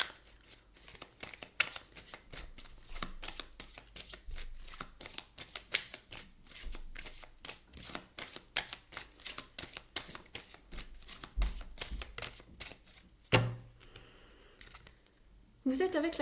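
Tarot oracle light cards shuffled by hand: a steady run of quick papery riffles and flicks, fairly close and clear, ending with a brief thump and a louder shuffle.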